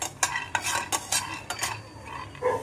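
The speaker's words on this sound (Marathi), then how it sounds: "आता बटाटे उकडेस्तोवर आपण शेंगदाणे भाजून घेऊया।" Dry-roasting peanuts being stirred in a pan, with repeated close scraping strokes of a utensil against the metal and the nuts rattling and shifting in an uneven rhythm, no voices.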